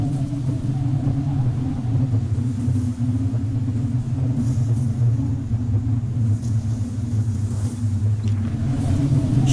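A storm rumbles as a steady, heavy low roar that holds constant for nearly ten seconds, loud and unbroken, with no voices over it.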